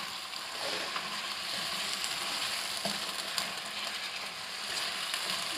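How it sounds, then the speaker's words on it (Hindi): Chicken sizzles loudly in a karahi over ginger garlic paste, a dense, steady frying hiss that stays close and constant with faint stirring clicks and no voices. "अब मैं इसमें शामिल कर दूंगी चिकन"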